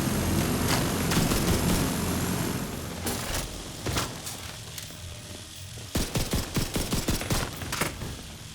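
In The Division 2, an automated autocannon fires rapid bursts of sharp, loud shots over a dense roar of battle, ending in a run of separate heavy blasts, with no talk.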